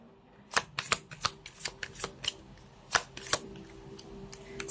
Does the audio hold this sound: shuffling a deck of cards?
yes